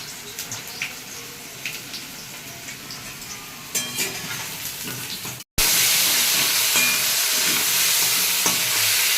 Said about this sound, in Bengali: আর এই যে আলুটা ভেজে নিচ্ছে দিদি